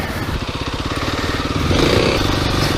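A Kawasaki KLX300 dirt bike engine runs close by on suburban trails, a steady mid-pitched pulsing chug that rises slightly in pitch and loudness partway through, with no talking.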